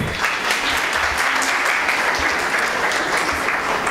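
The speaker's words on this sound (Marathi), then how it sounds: "टाळ्या अजून जरा जोरात." An audience applauding at a stage interview event, steady, dense clapping from many hands, continuous and fairly loud throughout with no other sound.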